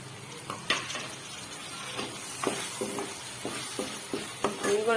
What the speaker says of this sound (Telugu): ఇప్పుడు ఇందులోనే మనం కట్ చేసుకున్న టమాటా వేసుకుందాం